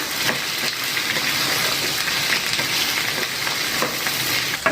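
Okra and peanuts sizzle and crackle steadily in a hot pan of oil while being stirred and mixed, a dense continuous frying hiss with occasional scraping, no voices.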